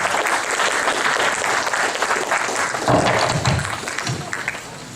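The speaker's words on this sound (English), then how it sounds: "Please give them a big round of applause." An audience applauds at a Gurudev Jayanti 2013 celebration, a dense, steady wash of many hands clapping that holds for several seconds before thinning out near the end.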